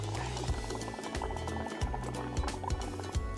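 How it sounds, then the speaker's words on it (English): Bubbling gurgle from breath blown through a straw into a cup of soapy bubble solution, steady and close, with repeated low burbling pulses as the foam pile rises. "So I'm going to take a nice deep breath in and then blow into my bubbles"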